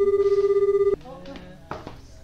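A phone rings in the Japanese school romance game Gakuen Handsome, a steady pulsing electronic ring lasting about a second, then cutting off as voices begin talking.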